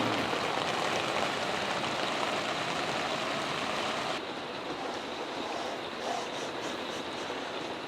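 Heavy rain runs down a window in a dense, continuous rushing wash, loud at first and then slightly softer and duller after a few seconds.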